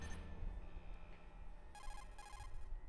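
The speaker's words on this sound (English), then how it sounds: "Oh, cool. We're getting a phone call." An incoming codec call rings in Metal Gear Solid, a repeating electronic ring in two bursts that cut in over a low, steady game backdrop.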